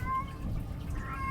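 A cat meows in Skyrim, within the gloomy Soul Cairn, a single drawn-out meow over a low rumbling ambient drone, with no talk.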